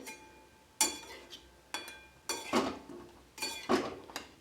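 Salted eggplant in a pan being stirred, heard as a handful of separate metallic scrapes and clinks of a utensil against the pan, spaced irregularly and close by over a quiet background.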